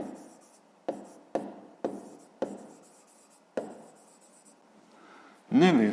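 A pen scratches across paper in short handwriting strokes, about six separate bursts with pauses between them, close and fairly quiet, ending with a brief voice.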